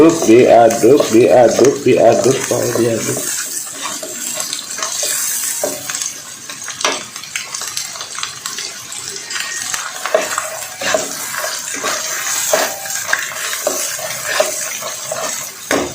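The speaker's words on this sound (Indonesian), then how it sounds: "Lalu kita aduk dan matang dulu." Indomie noodles are stirred in a pan with soft scraping and clinking of a utensil, after a louder tonal sound in the opening seconds that then falls away.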